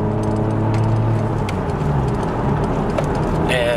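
Steady low engine drone from a Toyota Chaser JZX100's 2.5 liter turbo 1JZ while driving, heard from inside with faint cabin rattles and clicks.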